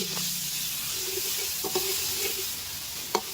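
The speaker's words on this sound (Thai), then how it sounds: "แล้วเราก็นำกระเทียมสับกับพริกสับของเราลงมาเลยครับ แล้วก็ผัดให้หอม" Hot oil sizzles steadily as chopped garlic and chili are stir-fried, with occasional scrapes and taps of a spatula against the pan.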